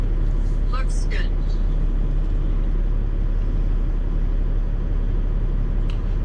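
A semi truck backs slowly downhill into a loading dock, with a steady low engine rumble and idle drone under faint high squeaks, continuous and fairly loud.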